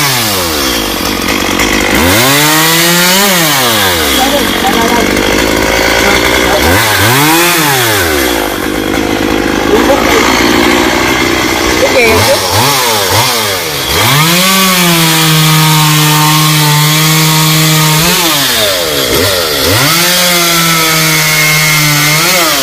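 A chainsaw cuts into a golden oak tree, its engine loud and close, revving up and down in repeated rising and falling surges across the whole stretch with no talking.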